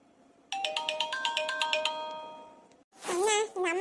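A mobile phone rings with an incoming call, a bright melodic ringtone of repeated chiming notes in a steady rhythm that fades out, followed by a person starting to speak.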